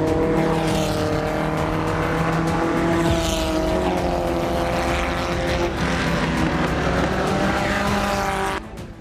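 Race cars roar continuously around a parking-lot circuit at a car and karting competition at the 5 Juillet complex, a loud steady engine drone with shifting pitch that cuts off sharply at the end.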